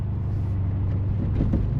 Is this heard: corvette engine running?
yes